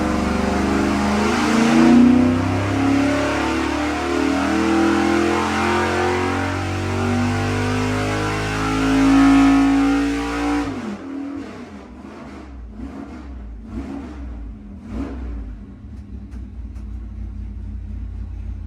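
A nitrous-fed car engine roars under load during a dyno pull, holding a loud sustained drone that climbs for about ten seconds before cutting off, followed by quieter sputters and pops as it winds down.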